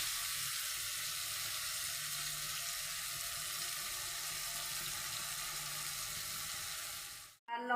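Ground coriander-cumin, turmeric, salt and red chili powder fry in oil in a pan for a prawn fry. A close, steady sizzle runs unbroken, then cuts off abruptly near the end with a brief clatter.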